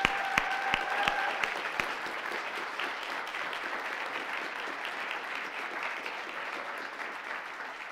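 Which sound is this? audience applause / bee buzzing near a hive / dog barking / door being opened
audience applause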